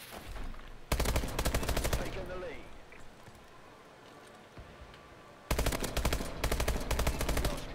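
Bursts of rapid automatic fire from an IMR rifle in the shooter game Call of Duty: Advanced Warfare, two loud sustained volleys of close shots separated by a quieter lull.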